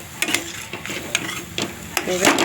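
Scraping, stirring strokes in a wok over a steady sizzle as sweet potato barfi mixture with cashews, almonds and cardamom is stirred, with several distinct scrapes of the spatula against the metal.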